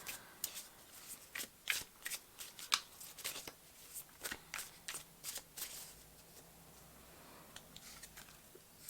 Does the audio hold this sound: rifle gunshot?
no